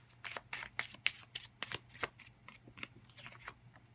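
A deck of playing cards being shuffled and a card drawn: a quick series of crisp riffling snaps and flicks in an irregular rhythm, close and fairly quiet, with a low steady hum underneath.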